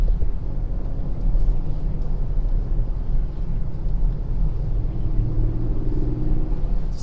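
A 2020 Ford Super Duty pickup drives along, its engine a steady, loud low rumble heard from inside the cab, with broadband road noise throughout and no talking.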